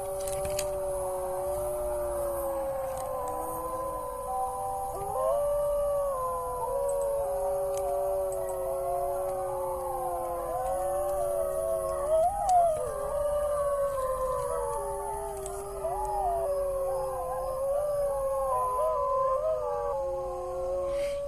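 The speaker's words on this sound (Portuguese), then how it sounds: "São chamados os uivos de um lobo." A long wolf howl rises and falls in steady, drawn-out tones, with several overlapping howls joining, sustained and clear over about twenty seconds.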